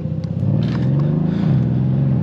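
Mercedes-AMG C63 S coupé with a V8 biturbo pulling away in Sport Plus mode, a close, loud, deep engine rumble that swells as the car sets off and holds a steady throaty drone.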